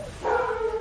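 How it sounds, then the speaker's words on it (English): A dog barks in the background during a card game match, a short muffled burst of yips in a room with no talk over it. "Sorry about the barking in the background."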